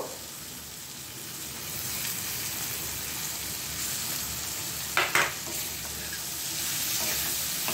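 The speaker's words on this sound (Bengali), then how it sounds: "আর এর সাথে আমি প্রয়োজন মতো চিংড়ি মাছ এটার মধ্যে দিয়ে দেবো, তারপর খুব ভালোভাবে কষিয়ে নেব।" Prawns frying with browned onions in a pan, a steady hiss of sizzling oil with soft stirring and two quick sharp spoon clinks in the middle, close and moderately loud.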